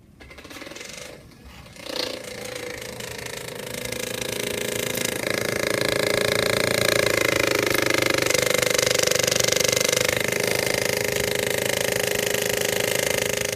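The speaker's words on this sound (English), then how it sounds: "This is our vacuum prototype, which is made out of a plastic bottle, some cardboard, and a milk crate." A homemade vacuum prototype built from a plastic bottle, cardboard and a milk crate runs with a steady mechanical whirring drone that builds after a brief clatter and holds loud and close.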